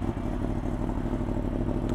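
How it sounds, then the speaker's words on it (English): A Yamaha R1 sport bike warming up: a steady, close, low engine idle with a fast, even rumble and faint mechanical clatter, no voices. "Let's warm up the bike."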